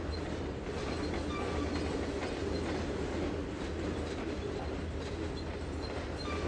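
Mixed freight train cars roll steadily in the Trainz 2022 video game, a continuous low rumble with clickety-clack wheel rhythm, fairly close and without talk.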